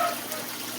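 Running water pours over mossy stones being washed, a steady broadband gush that stays even and close from start to finish.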